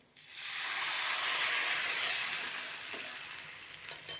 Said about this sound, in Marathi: याच्यामध्ये आपण आता 1 ग्लास पाणी टाकून घेते मी याच्यामध्ये.